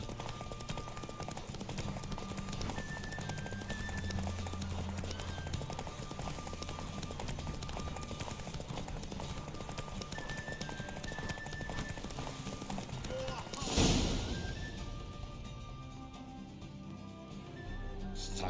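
Horse Roach galloping in The Witcher 3, steady clip-clop hoofbeats under ambient game music, followed by a sharp loud burst near the end and quieter hoof sounds after.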